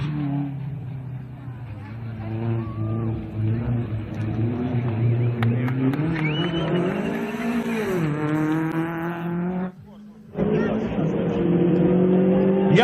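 A Dacia 1320 hatchback engine runs steadily and rises in pitch, close and prominent, with a brief dropout near the end before resuming; speech may be faintly mixed in.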